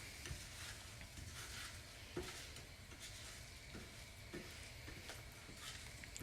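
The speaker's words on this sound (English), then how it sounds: "Keep stirring." Scrambled eggs being stirred in a pan off the heat, a soft faint sizzle under repeated light scraping strokes of the utensil.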